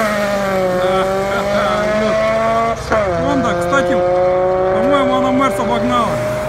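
A 400 hp Chevrolet Camaro racing engine holds a steady high drone with pitch rising and shifting as it accelerates, loud and close, with gear changes and talk mixed in.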